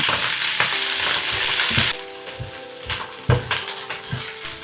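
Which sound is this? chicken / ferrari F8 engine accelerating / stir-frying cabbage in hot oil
stir-frying cabbage in hot oil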